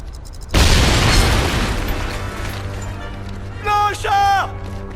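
A placed demolition charge explodes in the Wii game Medal of Honor: Avant Garde, a loud, close boom that rolls off slowly. A soldier's voice shouts briefly near the end.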